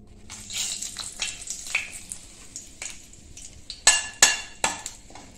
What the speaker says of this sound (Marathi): आता इथं आपल्याला फोडणीला पहिल्यांदा आपण तमालपत्र घालूया.